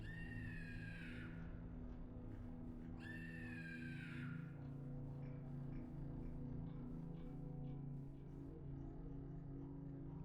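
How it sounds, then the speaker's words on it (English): A screaming sound effect in the horror video game Anthology of the Killer: two drawn-out, falling cries a few seconds apart, fairly loud over a constant low droning hum. "I gotta get that screaming sound effect somehow"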